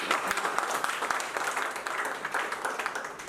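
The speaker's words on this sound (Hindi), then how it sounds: "के जोरदार तालियां हो" Crowd applause at a new office opening celebration, a dense, steady wash of clapping that holds for about three seconds without letting up.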